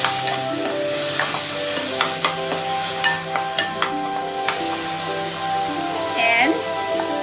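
Grated tomato with onion and ginger frying in a pan for pabda fish curry, a steady sizzle broken by repeated spoon scrapes and taps while a voice speaks over it.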